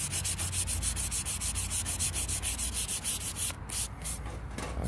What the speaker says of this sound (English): now that we're done sanding our pieces